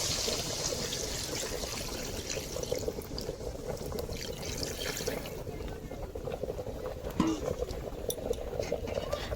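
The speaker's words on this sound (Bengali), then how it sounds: "অ্যাড করব পরিমাণ মতো জল" Water is poured into meat cooking in a pan, a continuous close splashing and bubbling wash that holds steady throughout, with a faint voice briefly audible.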